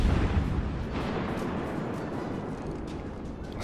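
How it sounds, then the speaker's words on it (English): Heavy naval gun salvos from a warship firing at destroyers in World of Warships Legends, a dense, loud rumbling barrage of booms and blasts that rolls continuously with no pause. "Might as well shoot at the destroyers while they're visible."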